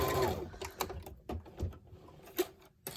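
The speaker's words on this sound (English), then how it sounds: "So I'm just going to back stitch it right here." A sewing machine back stitches a mermaid gaiter facemask in a few short, quiet bursts of needle chatter, separated by pauses and small clicks, heard close but faint.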